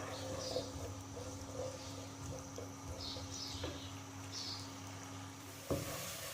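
Finely chopped potato frying in hot oil for a Spanish omelette, a soft continuous sizzle at low level with a faint steady hum beneath and a small clatter near the end.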